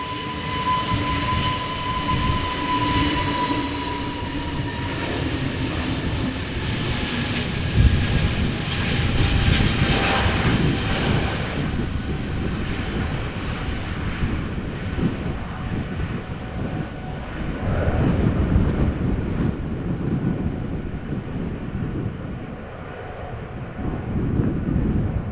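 A four-year-old EasyJet Airbus A320neo jet departs Amsterdam Schiphol, its engines roaring loudly and steadily throughout with a broad rumbling surge that swells and recedes, no voices present.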